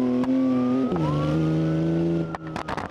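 BMW M4 engine in the BeamNG.Drive driving game revving hard, a loud, close, steady harmonic drone whose pitch drops and then climbs slowly, ending in a few sharp bursts.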